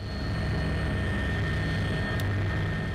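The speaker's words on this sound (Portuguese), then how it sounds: "O campo de futebol virou pista de pouso. Helicópteros carregados chegam a todo momento." Loaded helicopters arrive at a football field turned into a landing site in a mud-covered coastal disaster area, heard as a steady, loud droning rumble of rotor and engine noise with no talk.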